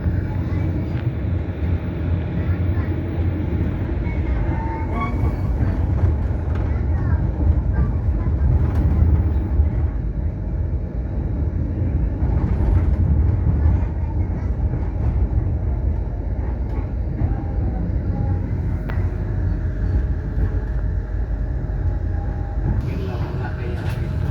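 The Pangrango passenger train between Sukabumi and Bogor rumbles steadily along the rails, a continuous low roar with faint clatter and murmuring voices beneath it.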